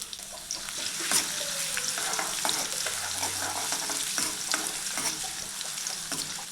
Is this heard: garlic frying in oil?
yes